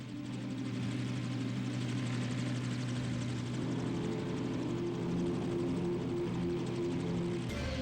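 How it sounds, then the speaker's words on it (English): A rescue helicopter flying over mountain terrain during a cable lift of a stranded man, producing a continuous throbbing rotor drone that stays loud and steady throughout. "Without landing, the helicopter would lift Eric out at the end of a long cable."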